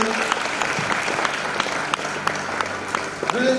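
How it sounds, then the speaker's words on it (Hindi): Loud, steady clapping from a wedding congregation during a Christian ceremony, dense and continuous for several seconds with a few sharper claps standing out. "ताली बजाएंगे जोर से, जोर से, जोर से, जोर से"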